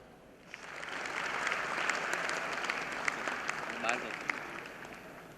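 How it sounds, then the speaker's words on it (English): Applause from a conference audience during a bouquet and memento presentation: dense, steady clapping that swells after a soft start and holds for several seconds, moderately distant, with faint voices underneath. "Please give a huge round of applause."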